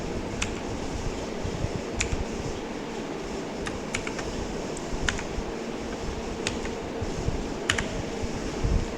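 Computer keyboard keys tapped in a steady run of light clicks while a captcha code is entered, with a constant fan-like hum of a computer underneath and no voices.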